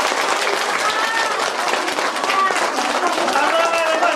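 A school-event audience claps loudly and continuously, the dense applause running the whole stretch, with a few voices calling out faintly underneath.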